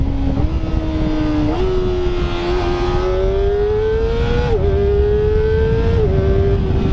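A Kawasaki ZX25R motorcycle with its stock exhaust revs hard and close, a high, smooth engine whine climbing steadily in pitch with several brief dips at gear changes, loud and continuous with no voices.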